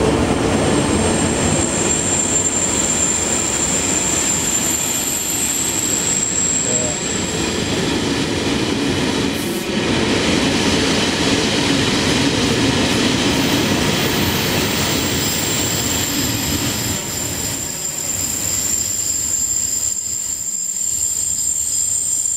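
A locomotive-hauled train rolls past on a diverted express route in Czechia, a loud, sustained rumble and wheel roar that swells, dips briefly, then continues before fading near the end.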